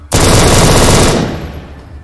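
One loud, sustained burst of automatic gunfire from the ATOM RPG video game roars for about a second, then fades into a short echoing tail.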